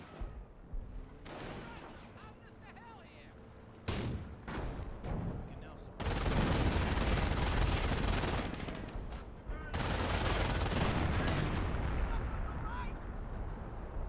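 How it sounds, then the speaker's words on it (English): Howitzer artillery fire in the video game Company of Heroes: heavy booming blasts and rumbling explosions swell loud midway and keep roaring, with a commentator speaking over the battle. "the howitzer fire is about to come in"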